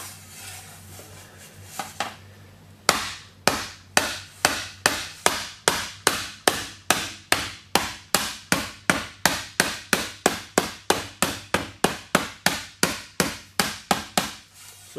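A rubber hammer pounds sheet metal resting on a shot bag to shape it. After a few scattered taps, a long run of sharp, evenly spaced blows rings out close and loud at roughly two strikes per second.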